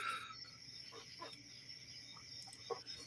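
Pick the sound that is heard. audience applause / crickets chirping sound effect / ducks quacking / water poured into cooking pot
crickets chirping sound effect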